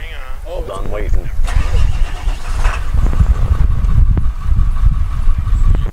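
A BMW 2002 fitted with a Honda K24 swap engine cranks and catches, then runs at a rough, steady idle close by, with people talking over the engine noise.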